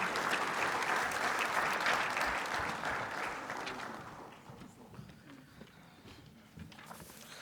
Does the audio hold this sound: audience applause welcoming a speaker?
yes